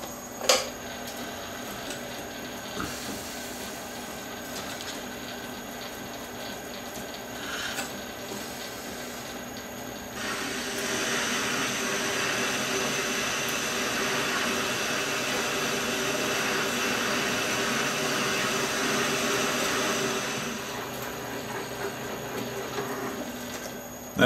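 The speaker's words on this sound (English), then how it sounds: "I know that this reamer is slightly reaming oversized" A metal lathe reaming a bushing, a steady mechanical whir with a faint scraping rasp that grows louder and denser midway, then eases off near the end, close and alone.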